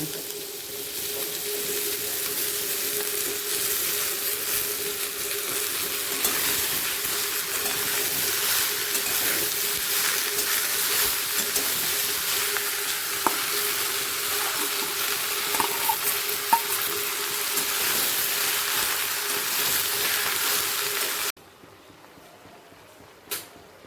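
Bottle gourd frying in a pan with potato and onion gives a steady, dense sizzle and hiss for about twenty seconds, loud and close, then cuts off abruptly into near silence.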